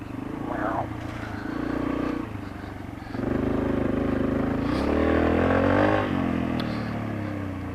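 Yamaha TTR125LE dirt bike engine rising and falling in pitch while riding downhill in a backyard, continuous moderate drone with revving changes; a rider speaks briefly over it.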